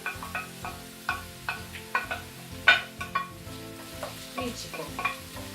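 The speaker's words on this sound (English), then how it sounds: "So, in go all the onions." Onions frying and being stirred in a pan for a roast leg of mutton, with steady sizzling and repeated scraping clicks of a utensil against the pan; a voice speaks briefly over it.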